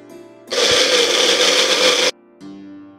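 A kitchen mixer grinder whirs loudly for about a second and a half, blending onion, water and roasted sesame and peanut into a paste, then stops abruptly before a quieter hum resumes.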